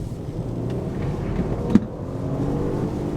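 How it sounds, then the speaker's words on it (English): A 2016 Mercedes-Benz GLE500e plug-in hybrid's V6 engine accelerates, a steady, full low rumble holding for a few seconds with one brief knock midway and no voices. "the best thing of this car is that V6, the sound and the pull"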